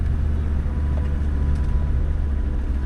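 A Land Rover Discovery 2 with its TD5 diesel engine crawls off-road near Langenaltheim, giving a steady, close low rumble that holds even throughout with no talk over it.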